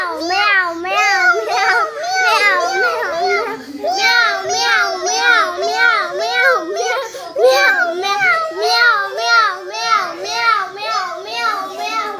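Young children take turns imitating a cat's meow in a classroom sound game, producing a long run of rising and falling, whiny meows, loud and close, one after another with brief gaps.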